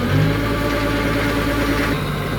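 A tractor engine runs in a rural rice-farming setting in Laos, a loud, close, steady low rumble with even vibration throughout and no speech.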